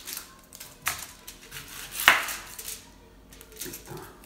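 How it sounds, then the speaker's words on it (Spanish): An onion being chopped with a knife on a cutting board, a handful of sharp, irregular close knocks among quieter kitchen clatter, with no talking. "lo que vamos a hacer, a partir la cebolla."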